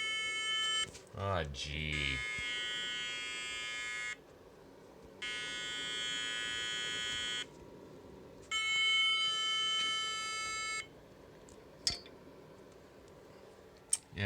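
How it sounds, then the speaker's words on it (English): A computer with a failing mainboard emits a low-high, low, low-high beep code of long electronic beeps separated by pauses, with a brief voice at the start and clicks afterward. "It plays that low-high, low, low-high beep"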